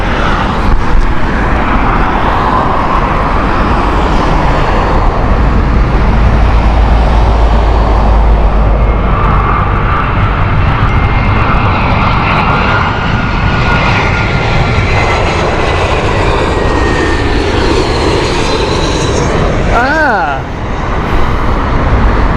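An Air Serbia Airbus A319 at Heathrow Airport roars loudly and continuously with a steady engine rumble, passing close.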